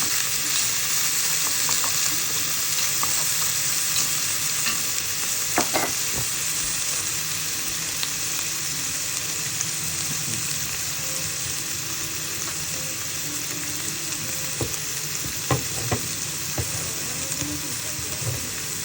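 Garlic, onion and ham sautéing in a pan, a steady, moderately loud sizzle with scattered sharp crackles and occasional stirring clinks and scrapes, close by with no talk.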